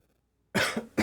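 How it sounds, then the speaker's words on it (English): After a moment of quiet, a person coughs close by, two rough bursts in quick succession. "And he coughs up blood."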